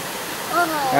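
A steady, broad rush of water pours down a nine-tier waterfall nearby, and a voice speaks briefly over the constant roar.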